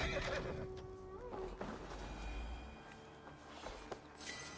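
A horse whinnies loudly in Assassin's Creed Valhalla, a long shrill neigh up close. Quieter snorts and hoof sounds follow over a low game rumble.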